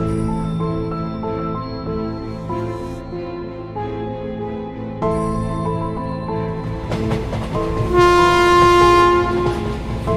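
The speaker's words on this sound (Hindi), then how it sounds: "और फिर चापी ट्रेन स्टेशन के पास आकर रुक जाती है" An animated cartoon train pulling into a station and halting, with loud layered horn-like whistle tones and rumbling rail noise that swell toward the end.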